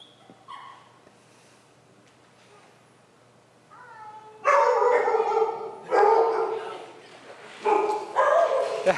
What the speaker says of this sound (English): It's all the dogs.